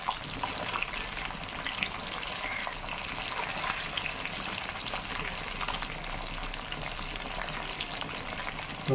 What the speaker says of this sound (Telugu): ఇలా ముక్కలు వేగినాయి కదా ఫ్రెండ్స్ దాన్ని ఒకవైపు కాలిన తర్వాత రెండో వైపు తిప్పుకోవాలి